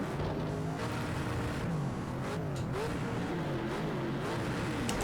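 Several race cars in Project Cars 2 launch together at a race start, a dense, steady roar of engines revving and accelerating with rising and shifting pitch sweeps, loud and continuous throughout without any talk.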